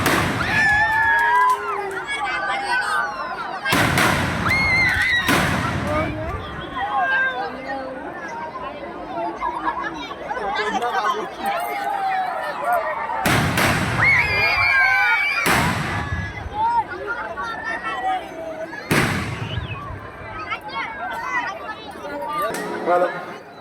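Fireworks burst over water at a Kali temple festival in several loud booms spread across the clip, with a crowd chattering and talking throughout between the blasts.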